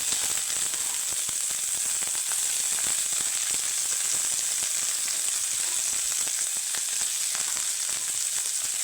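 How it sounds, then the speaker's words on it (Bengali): Cabbage hisses in raw mustard oil in a pan, a dense, even, bright sizzle that holds steady and close throughout with faint crackles and no voices. "এখানে আমি কাঁচা সর্ষের তেল দিলাম। এখন দিয়ে দিব বাঁধাকপি কেটে ধুয়ে রেখেছিলাম।"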